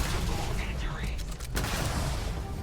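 Gunfire during a firefight in the video game Starfield, a dense continuous rattle of shots and booms mixed under steady talk and game noise.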